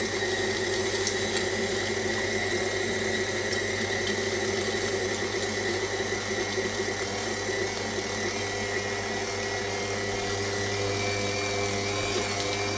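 A KitchenAid stand mixer fitted with a meat grinder attachment grinds Sika venison, making a steady, continuous motor whine with a grinding hum that runs unbroken and fairly loud throughout.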